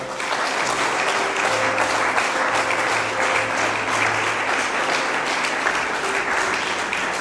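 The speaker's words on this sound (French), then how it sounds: "Et il acclame le Saint-Esprit." A church congregation bursts into sustained, dense applause acclaiming the Holy Spirit during a revival service, the clapping steady and full for several seconds with faint voices beneath.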